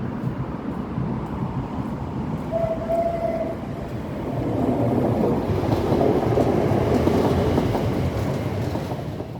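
A passenger train rolls past sidings near the Royal Oak Portal on the Crossrail line in London, its rumble building steadily. The driver gives a brief whistle early on.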